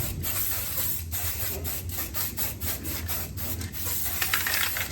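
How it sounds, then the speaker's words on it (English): A continuous hissing spray with brief pauses and bursts, close by, an aerosol can sprayed in short passes to coat an object with an even layer. "We're going to go ahead and spray this down a little"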